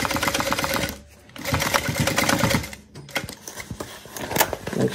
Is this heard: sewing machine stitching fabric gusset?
yes